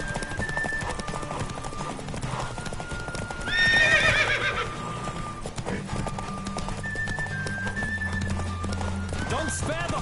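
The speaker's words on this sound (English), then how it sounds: "Don't spare the horse!" In a video game, The Witcher 3, hooves clip-clop in a fast, steady gallop, and a horse whinnies loudly partway through before the galloping carries on.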